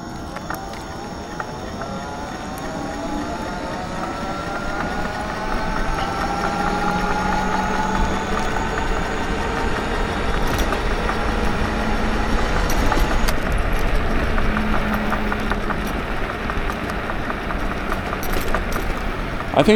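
A steady mechanical drone and whine from a failing e-bike motor while coasting downhill, continuous and fairly loud, with wind rumble and occasional faint clicks.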